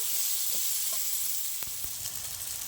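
Chopped onions frying in hot oil with a dried red chilli, a bright steady sizzle close up, with a few sharp spoon taps and stirs near the end.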